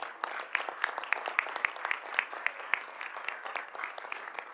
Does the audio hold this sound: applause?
yes